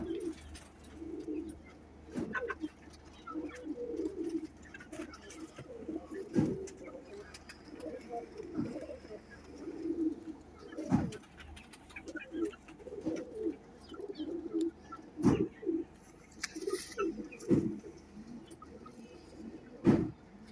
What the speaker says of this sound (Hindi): माशाल्लाह बहुत अच्छे कबूतर हैं दोस्तों।